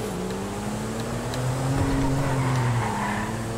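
Tire-spinning, tail-happy car in GTA V during roleplay, with a steady engine drone and rising revving tones, close and continuous, with a rough road rumble underneath and no talking.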